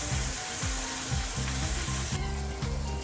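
Korean cucumber salad being mixed by hand, a steady wet rustle with repeated squelching strokes in a rhythmic pattern, close and fairly loud, with a background hiss throughout.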